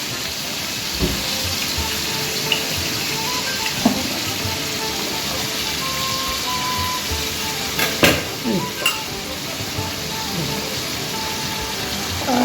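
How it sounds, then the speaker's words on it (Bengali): Chili chicken with soy sauce sizzling and frying in a pan, a steady close hiss with occasional clinks and stirring sounds throughout. "একটু ভাজছি।"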